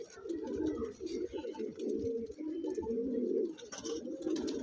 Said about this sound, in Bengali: এই একটা নর পায়রা দেখুন, নাক মোটা, খুবই সুন্দর পায়রা